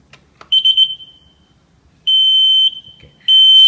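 A buzzer driven by an Arduino light sensor gives loud, piercing electronic tones: a short stuttering burst first, then two longer steady beeps separated by brief pauses.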